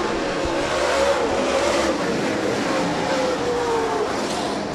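USMTS modified race cars run a heat race at Rapid Speedway. A continuous engine roar rises and falls as the cars pass, with pitch sweeps as they rev through the turns.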